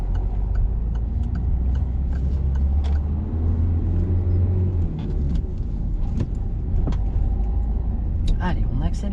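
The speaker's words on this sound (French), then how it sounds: "Allez, on accélère. Et on met la 3." A car engine hums steadily during a driving lesson, with low rumble and road noise, while people talk over it.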